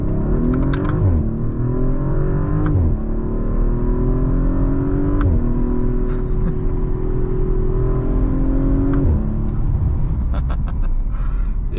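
An Audi RS5 Sportback with Quattro all-wheel drive, shifted in manual mode, accelerates fast, its engine rising in pitch through several gear changes, steady and loud from inside the cabin, with brief clicks over it.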